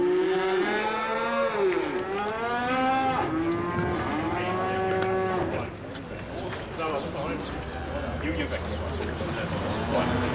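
Cattle at a busy cattle fair give several long, loud moos in succession, with more lowing and crowd bustle filling the background.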